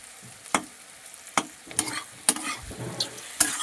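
Potatoes fry in a pan while a spatula stirs them, with roughly six distinct scraping knocks a half-second to a second apart over a soft, steady sizzle.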